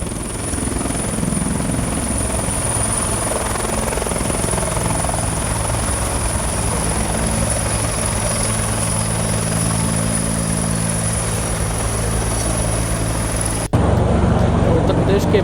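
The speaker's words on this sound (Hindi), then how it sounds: "जहां पर कांवड़ियों पर हेलीकॉप्टर से पुष्प वर्षा की जा रही है।" A helicopter flies low over kanwar pilgrims in Baghpat, Uttar Pradesh, showering them with flowers. Its steady, loud rotor and engine drone fills the whole stretch, and the sound shifts abruptly near the end.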